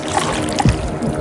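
A kayak paddled on the sea off Palolem Beach in South Goa: a steady wash of water noise with a brief splash of the paddle near the middle, close and fairly loud.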